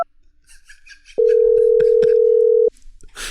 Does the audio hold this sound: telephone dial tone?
yes